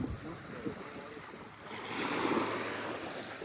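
Sea waves wash around an orange kayak in shallow water, a steady hiss of surf swelling louder midway, with wind buffeting the microphone.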